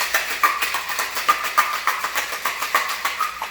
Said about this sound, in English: Give that a shake, get it nice and cold.